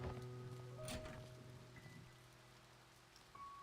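Steady rain falls on outdoor surfaces, a soft continuous patter with a brief louder swell near the start and low background hum; no one speaks.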